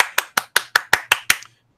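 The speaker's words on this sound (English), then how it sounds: "That's me clapping" A person's hands clap eight times in a quick, even rhythm, each clap sharp and close, with the last one trailing off into silence.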